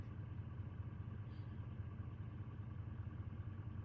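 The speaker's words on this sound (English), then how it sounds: "This one's a case articulated steering four-wheel drive tractor that's had the rubber tires taken off" A Case articulated-steering four-wheel-drive tractor, rubber tires removed and fitted as a stomper, runs with a steady low engine rumble that holds constant throughout, close and continuous with no talk.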